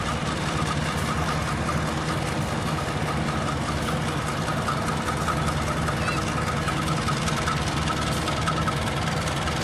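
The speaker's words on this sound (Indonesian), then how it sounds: "S35 nya lokomotif CC201 menandakan kereta api Joglo Sumarkerto mulai akselerasi" A CC201 diesel locomotive pulling the Joglosemarkerto passenger train throbs loudly and steadily as it accelerates away from the station on single track, its heavy engine drone and rumble filling the whole stretch up close.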